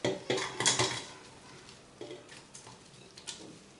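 Chopped onion tipped into a cooking pot for a quail tagine, giving a cluster of close clattering knocks and scrapes against the pot, then a few lighter, scattered taps.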